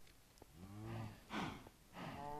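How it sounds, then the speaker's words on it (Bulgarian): Cows on a farm in a Minecraft-style survival server game, mooing in three separate drawn-out calls spaced across a couple of seconds, fairly close and clear with no talking. "Значи това ми е така фермата за крави."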